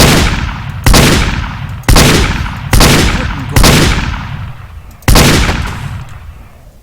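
Six loud, sharp gunshots from a video game fire one after another at roughly one-second intervals, each with a decaying tail. No one speaks.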